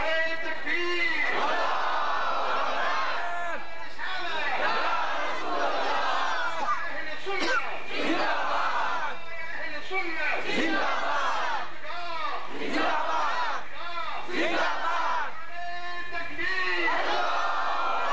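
A large crowd at an Eid Milad un Nabi celebration chanting a religious slogan in loud, repeated unison, each roaring call rising and falling in a steady rhythm for the whole stretch, with a leading voice among them.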